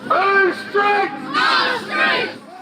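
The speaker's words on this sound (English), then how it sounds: "They're a loud crowd, but it's clear they're more noise than numbers." Chanting protest crowd marches toward housing for asylum seekers in a British town, rising in loud, rhythmic shouted phrases that repeat in waves, close and dominant.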